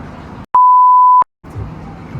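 A single censor bleep, a loud, pure, steady tone lasting under a second, set between brief gaps of silence and quiet outdoor background noise.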